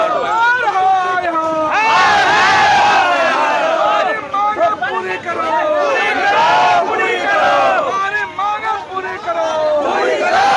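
A large crowd of protesting chowkidars and dafadars chants loudly on a road, mass voices rising and falling in repeated slogan waves with dense babble underneath, close and continuous throughout.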